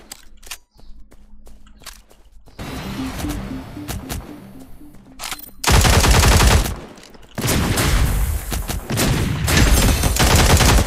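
Heavy gunfire from a big in-game gun in the PC shooter Cyber Hunter: scattered single shots and footsteps give way to loud, sustained rapid bursts close up.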